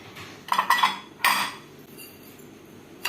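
A spoon clinks against a bowl while grated coconut and sugar are mixed for a sweet wheat dosa: a few close, bright clinks in quick succession, then a softer scrape and quiet.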